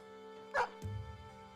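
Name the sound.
dog barking in video game Battle Brothers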